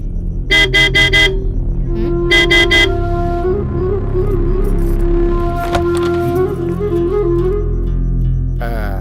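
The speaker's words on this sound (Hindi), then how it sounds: "हॉर्न मार।" Loud car horn honking in short bursts, several quick beeps, then a longer blare over a running engine nearby.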